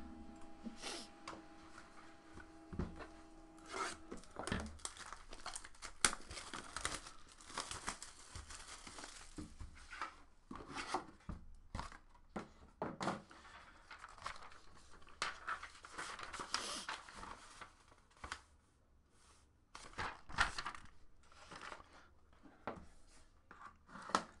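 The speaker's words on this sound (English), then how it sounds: "There's the official crack of the NT box." Opening a Panini National Treasures Collegiate Basketball trading card box: irregular crinkling and tearing of wrapping and cardboard, close and moderately loud, with scattered rustles and brief pauses, no talking.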